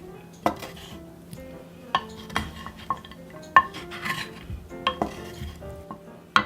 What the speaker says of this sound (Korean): 올리브유 2큰술 아까 구워놨던 베이컨도 썰어져 넣어주세요. 골고루 잘 섞어주시면서